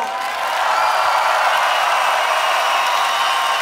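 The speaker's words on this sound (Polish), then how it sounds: "Zaprośmy ich ogromnymi oklaskami." Big festival crowd at Pol'and'Rock Festival 2019 applauding and cheering for Perturbator, a broad, steady roar of distant clapping and voices that swells slightly and holds.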